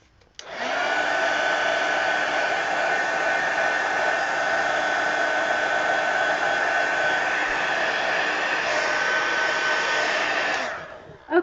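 A hair dryer blows on a small damp spot of an altered book, running loud and steady for about ten seconds before it switches off.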